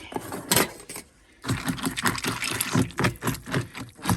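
Water poured into several containers, with an initial splash, a short pause, then a run of irregular splashing and clinking pours, moderately loud and close, with no talking.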